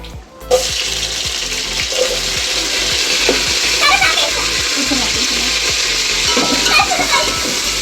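Onions, green chillies and curry leaves fry in a pan, a steady dense sizzle crackling close by for the whole stretch, with a faint voice now and then underneath.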